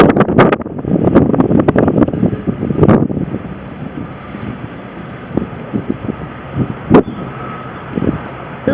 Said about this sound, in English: From the wind because it's so windy.